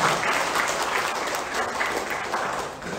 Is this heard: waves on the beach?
no